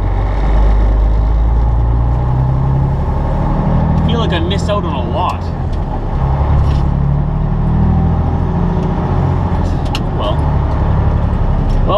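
A car driving along a rural road toward the interstate, a steady loud engine and road rumble running throughout with a brief navigation voice and faint chirps partway through.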